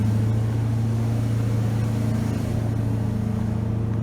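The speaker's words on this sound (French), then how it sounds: "il faut chauffer le moteur. Et là une AMG GTR" An AMG GT R idles loudly on a London street while warming up. Its deep, steady engine rumble holds close and constant, with little change in revs and no voices.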